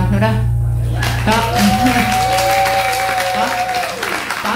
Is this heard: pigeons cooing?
no